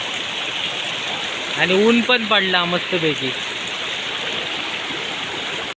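A small stream flows in a steady, close hiss and burble where crab traps are set, with a person speaking briefly over the water partway through.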